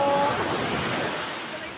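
Sea waves wash steadily onto a beach in Patnongon, Antique, a broad continuous surf roar with some wind, slowly fading over a brief stretch.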